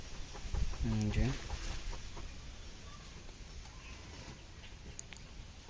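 Chickens cluck inside a poultry farm shed, a few close calls early on, then a steady, softer murmur of hens under some nearby talk.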